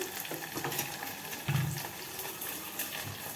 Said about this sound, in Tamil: சரி, இப்போ இதை வதக்கணும்.